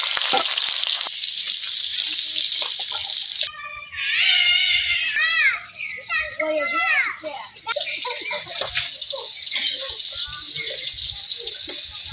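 Gulsha fish frying in a pan with beans, stalks and potato gives a loud, steady sizzle that breaks off midway while children chatter and play nearby, then the hiss returns.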